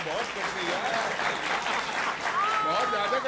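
An audience at a televised Hindi poetry recital on politics bursts into sustained, even applause, steady and fairly close throughout, with faint voices mixed in.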